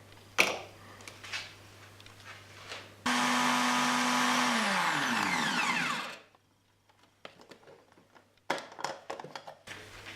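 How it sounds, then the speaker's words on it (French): A blender whirs steadily for about three seconds, blending watermelon for ice pops with a rising whine as it spins down, between quieter clattering kitchen handling sounds. "Après ça, on va ajouter petit à petit dans le mixeur."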